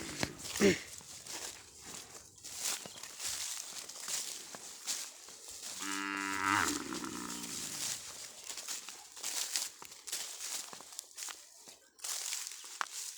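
A Sindhi Sahiwal bull grazing in a farm field gives one drawn-out moo midway, surrounded by soft rustling and footstep-like crunches in the grass.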